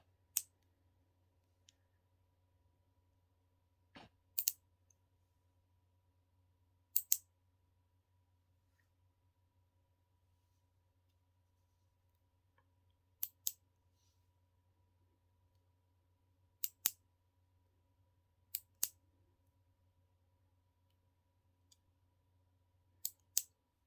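Scissors snip during an ASMR roleplay trimming nails and hair, with sparse crisp single and double snips spaced several seconds apart over near silence, close and quiet.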